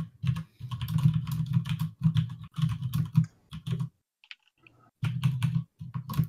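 Rapid computer keyboard typing in bursts of dense clicking, loud and close, with a short near-silent gap before the keystrokes resume.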